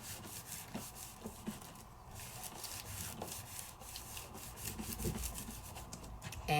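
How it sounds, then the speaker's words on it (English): Paper is burnished by steady hand rubbing, producing a continuous quiet, close scratchy swishing with a repeated back-and-forth texture and no speech. "now when I burnish, I'm just rubbing"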